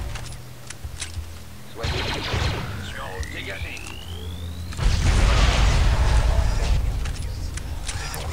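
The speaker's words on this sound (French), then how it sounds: "Je fais une toute petite explosion, je suis blessé." A grenade or demolition blast goes off in the Star Wars Republic Commando shooter, a sudden loud boom with a broad roar rising partway through, layered over other game sounds and a rising tone.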